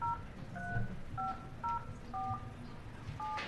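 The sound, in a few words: telephone dialing for a conference call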